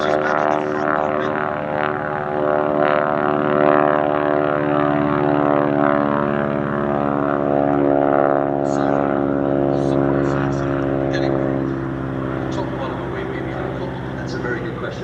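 A wing-walking display aircraft at the Sywell Airshow produces a loud, steady propeller drone with a strong tonal hum that holds throughout at close range.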